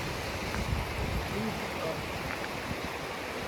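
A waterfall in Iceland roars as a steady broad rush of water, close and continuous, with a brief bit of talking and gusty wind mixed in.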